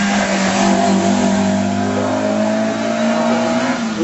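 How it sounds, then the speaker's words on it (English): A Mark II Lotus Cortina racing saloon accelerates hard up the Shelsley Walsh hillclimb, its engine note loud and close, steadily rising in pitch through a sustained run with no voices. "Here's a Lotus."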